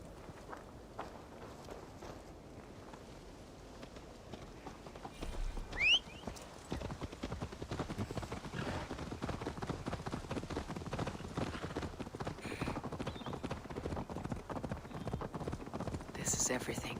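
Hooves clip-clop in a steady trotting rhythm as a Viking character rides a horse in Assassin's Creed Valhalla, loud and continuous for most of the stretch, with a player talking over it.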